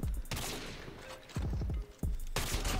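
A sniper rifle fires in Call of Duty Mobile: several sharp, loud game gunshots, with a burst at the start and two more cracks later, each decaying quickly between shots.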